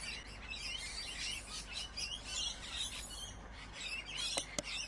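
Small birds chirp and tweet continuously in a pet shop in a simulator game, a dense, fairly faint chatter of overlapping calls with a couple of sharp clicks near the end.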